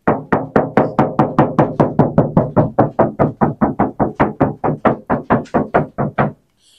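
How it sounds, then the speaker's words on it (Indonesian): Steady run of about two dozen hollow knocks on the door panel of a Toyota Innova Zenix Hybrid, close and loud, evenly spaced and fast, stopping abruptly at the end. "pintu bunyinya seperti ini ya."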